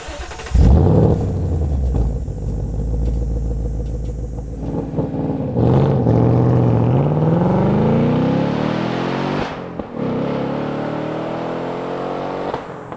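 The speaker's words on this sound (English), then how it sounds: "drop the top, let that V8 rumble, and just celebrate the drive" A 2025 Ford Mustang GT with a naturally aspirated V8 starts with a burst, settles into a loud, deep idle, then revs up in a rising sweep that holds as a steady close rumble, with no talking.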